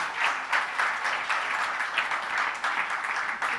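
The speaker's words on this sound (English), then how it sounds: "I'd like to ask you to all give my panelists a very round of applause." Audience applause for the panelists at a climate crisis panel on tropical coastal cities: a full room clapping steadily, a moderately loud, even texture of many hands held for several seconds without speech.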